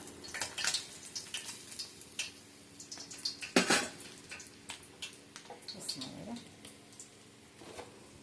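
Food frying in a pan is turned over with a metal utensil, giving close clinks and scrapes against the pan over a low sizzling bed, with a sharp clatter midway and a voice speaking briefly in the background.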